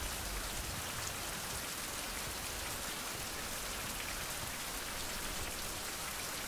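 Steady, dense rainfall in a video game hisses evenly throughout, a constant wash of drops on surfaces with no breaks or other sounds.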